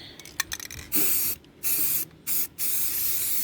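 Several hissing bursts of an aerosol spray can being sprayed onto a car, short puffs at first, then three longer sprays with brief pauses between them, close and loud.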